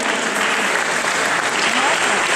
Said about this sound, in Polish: Może jeszcze tylko brawa